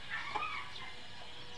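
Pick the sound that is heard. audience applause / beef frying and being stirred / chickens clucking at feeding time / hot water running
chickens clucking at feeding time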